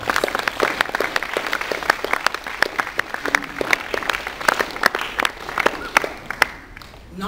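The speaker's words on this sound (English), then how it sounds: "So give yourselves a round of applause." Students applauding themselves at a 2014 Sagicor Visionaries award ceremony in Barbados, a sustained burst of crowd clapping with sharp individual claps, steady for several seconds before fading out at the end.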